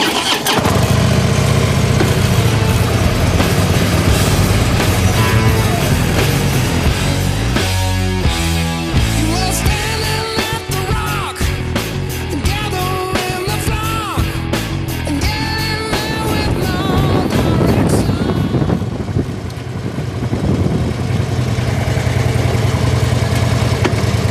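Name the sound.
brand new motorcycle engine starting and idling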